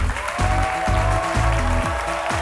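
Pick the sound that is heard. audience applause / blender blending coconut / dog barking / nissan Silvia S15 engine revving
audience applause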